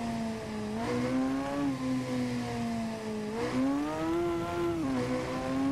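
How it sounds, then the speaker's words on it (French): Honda Hornet CB motorcycle engine in the racing game Ride 2, revving steadily while accelerating out of a corner, pitch rising and dipping through gear changes, loud and continuous with no voices. "Regardez, quand je raccélère tout doucement en sortie de virage."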